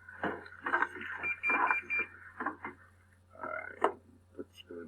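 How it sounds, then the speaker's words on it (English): Kitchen timer alarm beeping in bursts while beer is brewed over a fire, ringing fairly loud and close with an irregular electronic rhythm, with no talk over it. "Turn off the timer before it drives us all insane."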